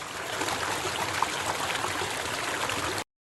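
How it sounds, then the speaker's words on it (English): A waterfall gives a steady, close rush of falling water that continues evenly with no talk, then cuts off abruptly. "would you like to go over a waterfall?"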